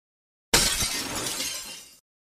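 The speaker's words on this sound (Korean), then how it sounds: "와장창 소리가 나면서 그릇이 다 깨졌어요" Dishes and tableware crash to the floor and shatter as a dining table is flipped over, a sudden loud burst of breaking glass and ceramic that rings on for about a second and a half before tapering off.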